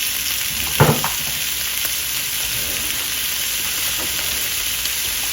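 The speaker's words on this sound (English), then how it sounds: "these peaches, and I'm going to cook them down with a little bit of stevia" Frozen peaches cook down in a pan with a steady, dense sizzle and bubbling hiss, close and even throughout, with a brief clatter of stirring near the start.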